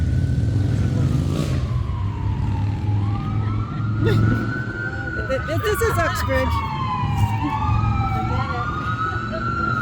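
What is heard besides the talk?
ambulance siren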